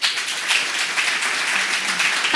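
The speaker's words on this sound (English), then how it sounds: "let's give her another round of applause" Steady applause from an audience after a Python conference talk on sport analysis, dense continuous clapping without pause.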